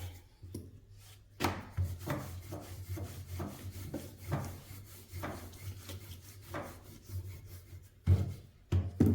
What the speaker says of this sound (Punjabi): ਲੋ ਜੀ ਮੂਲੀ ਦਾ ਪਰਾਂਠਾ ਆਪਾਂ ਨੇ ਬੇਲ ਲਿਆ